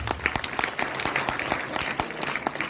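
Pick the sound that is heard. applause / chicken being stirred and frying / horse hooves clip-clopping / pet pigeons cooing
applause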